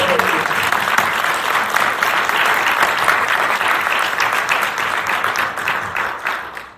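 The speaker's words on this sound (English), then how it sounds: "So please give a round of applause to our amazing panelists." Conference audience applauding a panel of presenters at a university event in Waterloo, Ontario, a dense sustained burst of clapping that carries throughout and tapers off near the end.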